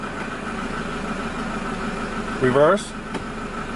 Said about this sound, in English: You can hear the engine pitch change